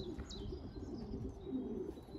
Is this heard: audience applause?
no